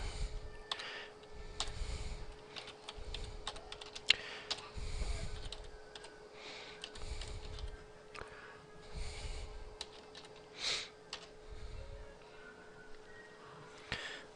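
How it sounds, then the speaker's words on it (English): Keys tapped on a computer keyboard while entering a Windows ipconfig /registerdns command into an administrator command prompt, soft scattered clicks in short bursts with a steady background hum, no talking. "we're going to type in ipconfig register DNS"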